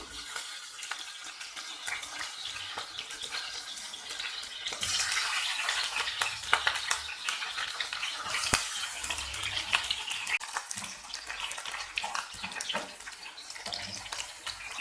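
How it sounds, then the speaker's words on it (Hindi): Potatoes frying in oil in a home kitchen while taro root and onion curry is being made, a steady broadband sizzle that grows louder and denser midway and continues without speech. "अब मैं इसी ऑयल में आलूओं को फ्राई कर लूँगी।"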